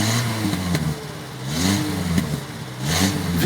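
A Renault 4 car engine revs in a mid-pitched, rising and falling drone across a few seconds, with no talk over it.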